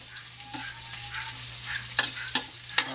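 Ginger frying in a pan gives a constant close sizzle, broken by three sharp scraping clacks of a utensil against the pan toward the end, with no talk.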